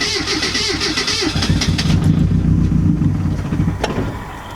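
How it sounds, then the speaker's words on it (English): A racecar engine running on Everclear cranks over with a rapid rhythmic churning, catches briefly into a rough rumble, then fades down. The sound is loud and close, with no talking. "We're gonna go ahead and turn it over, see if it starts."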